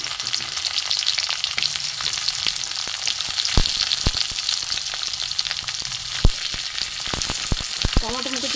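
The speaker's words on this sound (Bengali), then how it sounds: "রসুনটা একটু ভেজে নেব পেঁয়াজ কুচি দিয়ে দেবো" Chopped garlic and onion frying in hot oil for a spicy lote fish dish, a dense continuous sizzle close up with scattered sharp spatters and pops throughout, no voices.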